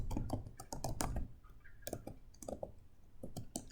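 Quick bursts of clicky typing on a computer keyboard, close and fairly quiet, with uneven pauses between runs of keystrokes.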